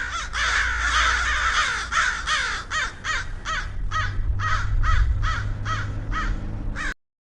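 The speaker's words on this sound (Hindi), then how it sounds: "अभी जो कौवा बोल रहे हैं वो भी दिखाई नहीं दे रहे हैं।" Several crows caw repeatedly in a steady series of harsh calls, fairly close, over a low background rumble, ending abruptly.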